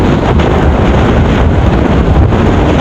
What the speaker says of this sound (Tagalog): Malakas ang hangin.